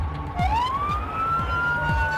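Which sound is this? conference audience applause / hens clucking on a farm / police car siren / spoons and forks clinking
police car siren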